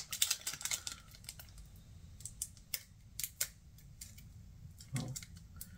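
A series of sharp snipping and clicking sounds, close by and irregular, as scissors work through stiff Pokémon card packaging in a quiet room.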